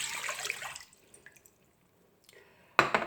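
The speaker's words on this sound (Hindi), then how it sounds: "इसमें ऐड कर रही हूँ ये 1 प्याली पानी" A cup of water is poured into a pan to start a sugar syrup, a brief splashing rush at first, then quiet drips and small clinks, ending in a sharp splash.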